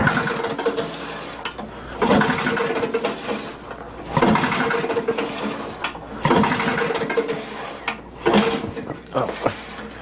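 A Bear Cat wood chipper that won't start cranks over in repeated surging bursts, each lasting about two seconds, as the clutch engages during starting attempts, with mechanical rattling between pulls.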